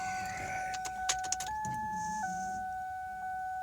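Electric fuel pump in a 2000 Ford Taurus priming with the key switched on after intake manifold gasket work: a steady, thin whine that steps up and down in pitch, with a few small clicks, and no one speaking.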